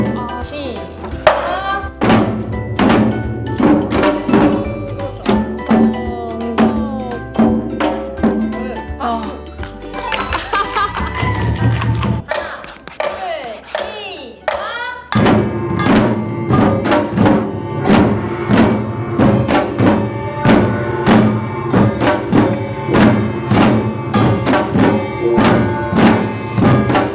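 A Korean nongak drum is struck in practice, sharp hand and stick hits falling in steady rhythmic runs, close and loud, with a short pause midway while voices talk and laugh over the playing.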